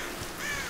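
Crows caw in the Tomb Raider video game, a single harsh call rising over a dense, hissing ambient background, fairly close and brief, with no talking.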